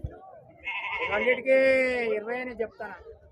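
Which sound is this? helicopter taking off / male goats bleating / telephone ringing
male goats bleating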